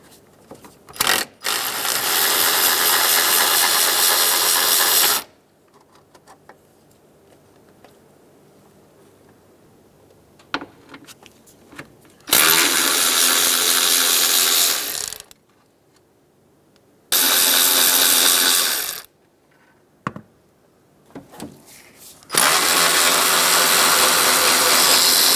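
A power ratchet or impact tool removing four 10mm bolts holding the radiator fan on a 2007-2015 Mazda CX-9, heard as four loud sustained whirring bursts of several seconds each, separated by quiet pauses with small clicks.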